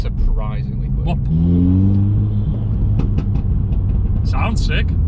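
An Audi S1 performance build revs up once in a loud, close, rising sweep over a steady rumble, with people talking before and after.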